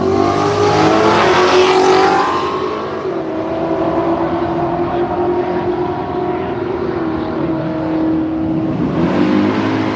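Drag racing cars, an RT Charger and a VH Commodore sedan, roar loudly and continuously at Willowbank Raceway in Australia. A revving surge at the start settles into a sustained engine drone.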